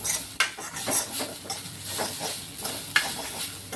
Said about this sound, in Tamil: வறுக்கக்கூடிய பொருள் சோம்பு, அன்னாச்சி பூ எல்லாத்தையும் போட்டு கொஞ்சம் செவக்காக வறுக்கணுங்க